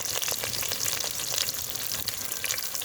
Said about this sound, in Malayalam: എണ്ണ ചൂടായി, അതിലേക്ക് കുറച്ച് കടുക് ഇട്ട് കൊടുക്കാം